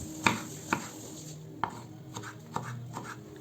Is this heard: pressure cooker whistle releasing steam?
no